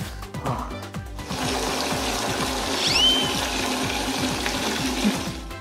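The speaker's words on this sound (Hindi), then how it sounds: "ये पानी की बाल्टी को भर ली" Water running steadily into a bucket, a continuous broadband rush over a low rhythmic mechanical pulsing, fairly close and unbroken throughout.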